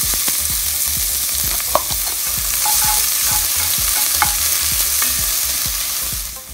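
Onions sauté in a Dutch oven with a bright, close sizzle, broken by frequent rhythmic scraping and stirring strokes and a few small clinks, and no talking.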